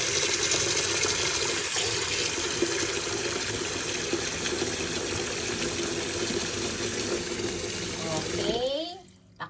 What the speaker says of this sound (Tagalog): lagyan natin ng tubig ulit